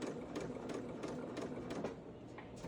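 A sewing machine runs steadily and slowly, feeding fabric through for a fully lined, reversible top, with a continuous close rhythmic whir and needle clatter and no talking.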